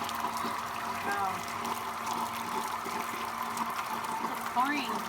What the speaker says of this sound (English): So this thing is sucking up all our, what is this, a sump pump?